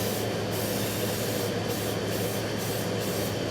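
Spray paint hisses in even passes onto a motorcycle bobber frame, a steady close aerosol spray broken by a few short gaps between bursts.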